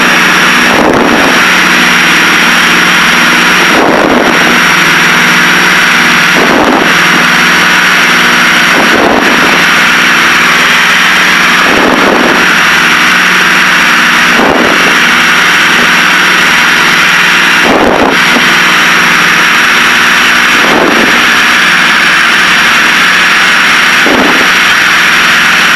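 Twin engines of a Piper Seneca at cruise power, 20 inches of manifold pressure and 2,400 RPM: a loud, steady droning roar heard from inside the cabin, with faint periodic pulsing throughout and no talk.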